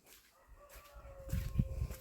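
A chicken clucks and murmurs close by, the low calls growing louder toward the end over faint background noise.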